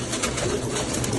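Pigeons cooing close by, a soft low throaty call running steadily through a brief moment with no talking.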